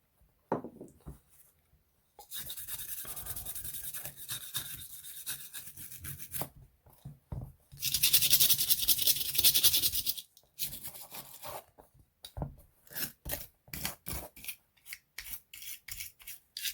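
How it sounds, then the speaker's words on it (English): Scrubbing light surface rust off a 1950s Ruger MK1 .22 LR pistol magazine, a steady raspy rubbing in long continuous passes, then louder harsher strokes, ending in short separate scrubs with brief pauses. "just want to clean this mag off. See, it's picked up a little bit of"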